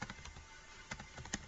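Faint keystrokes tap on a computer keyboard while entering text into an HTML form, a quiet irregular clatter with a few slightly sharper clicks and no talk.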